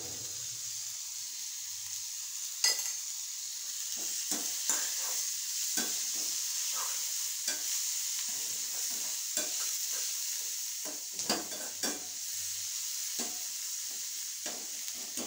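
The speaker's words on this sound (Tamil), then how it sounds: "இது ஒரு பக்கம் வதங்கிக்கிட்டு இருக்கட்டும்." Chopped tomatoes and salt sauté in a pan in a Tamil home kitchen, a steady sizzle running throughout with repeated scraping strokes of a spoon stirring, close and clear with no talking.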